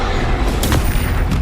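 A Confringo fire spell explodes during a Hogwarts Legacy battle: a loud, booming blast bursts out midway through a dense, continuous wash of combat noise, with a second, shorter burst near the end.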